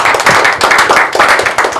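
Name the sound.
audience clapping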